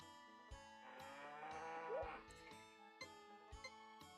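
Cow mooing in the video game Harvest Moon 64, a drawn-out low moo over cheerful looping game music with regular percussive beats, heard at a steady quiet level with no talk.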